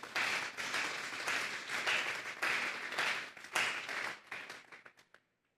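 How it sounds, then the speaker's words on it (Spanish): Church congregation applauding during a Spanish-language sermon on 1 Kings 22, a dense burst of clapping that holds steady for several seconds before thinning out and ending. "Vamos a darle un fuerte aplauso pues al Señor"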